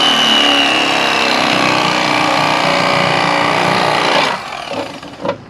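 Mister Twister electric fillet knife running through a small fish, a loud continuous motor whine and buzzing cut lasting about four seconds, then the motor stops and leaves a few faint handling knocks.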